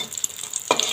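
Banana fritters frying in hot oil, a soft steady sizzle with occasional stirring clatter, then a louder burst of bubbling near the end as the batter is moved in the pan.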